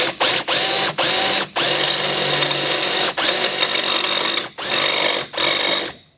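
A power drill with a dull bit bores into metal on a 1978 Ford F150 with a 351M engine, whining in a run of loud bursts with short pauses between them, close up and with nothing else over it.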